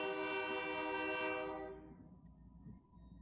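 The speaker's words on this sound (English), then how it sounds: "And choo-choo. train." A train horn blasts loudly in long sustained tones for about a second and a half, then cuts off, leaving the low rumble of the passing train alone.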